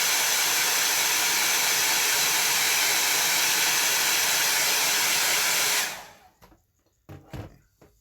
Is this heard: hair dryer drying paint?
yes